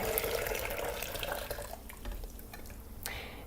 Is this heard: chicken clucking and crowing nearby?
no